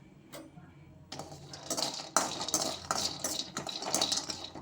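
Almonds and cashews roasting in a kadai, stirred with a utensil, giving a close, continuous rattling and clattering of nuts against the metal pan with sharper ticks throughout.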